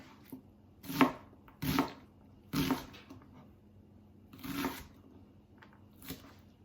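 Sharp knife chopping vegetables on a cutting board: five or six distinct, crisp thunks spaced irregularly about a second apart, fairly close and moderately loud, with quiet gaps between and no talking.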